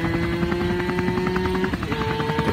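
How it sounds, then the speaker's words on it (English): A helicopter passes low over sunflower fields, its rotor blades pounding in a steady loud rhythm with a sustained engine drone, close and continuous throughout. "I heard the helicopter before I saw it."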